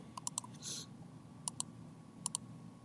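A computer mouse clicks while editing in Photoshop, sounding as a few sharp, quiet double clicks spread over the clip with a short rustle early on, close and isolated.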